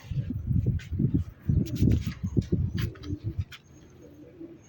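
Pigeons in a loft, one a black-flecked tumbler pigeon, coo repeatedly in low rhythmic bursts, close and fairly loud, with some rustling and brief higher chirps overhead.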